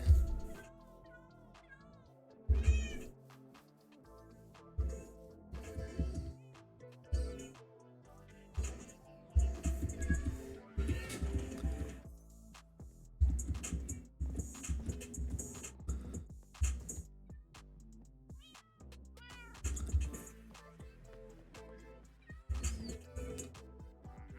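A cat meows repeatedly in a series of short, fairly quiet cries spread across a long stretch, interspersed with rustling, thumps and other household noise.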